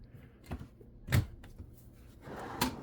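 Wooden drawers with laminate fronts are opened in the cabinetry of a 2006 Liberty Prevost XL2 bus conversion, giving a few quiet, separate knocks and slides against a soft room hush.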